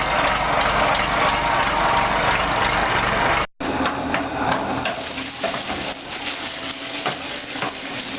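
Farm engine warming up and idling on a rainy day, a steady low rumbling drone that continues after a brief cutout, with faint clattering on top.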